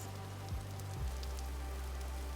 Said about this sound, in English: Back to the rainy weather that I'm used to.